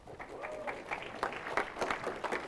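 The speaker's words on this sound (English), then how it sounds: "Cheap applause." Audience applause at a user interfaces keynote, a fairly faint, distant patter of mixed claps sustained throughout the short stretch with no talking.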